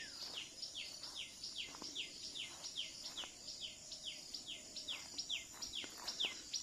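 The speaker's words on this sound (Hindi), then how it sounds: "कितनी सुंदर ढंग से आवाज़ आ रही है टेलर बर्ड की।" Quick, repeated high chirps from a tailorbird ring out in a steady rhythm beside a lotus-filled river, layered over a continuous insect hum.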